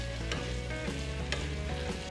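Chickpeas frying in fat in a pan for rice with tomato and calabresa sausage, a dense, steady sizzle close up with a few brief stirring scrapes.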